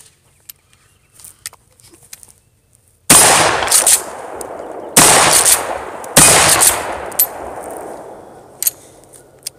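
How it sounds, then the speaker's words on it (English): Three loud shotgun blasts from a pistol-grip-only (PGO) scattergun firing buckshot at steel targets downrange, each with a long ringing decay, spaced about two seconds apart. Faint clicks and small noises come before the shots. "We got some steel targets downrange. Lit up a few more buckshot and see if we can ring it."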